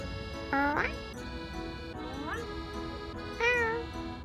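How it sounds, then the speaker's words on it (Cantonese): A stray cat in a small English town meows three times in rising, drawn-out calls over steady background hum, moderately close. "我哋見到隻貓仔啊"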